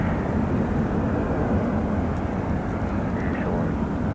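A passenger airliner roars steadily overhead at Cleveland airport, a loud, broad, continuous rumble that holds through the whole stretch before cutting off abruptly at the end.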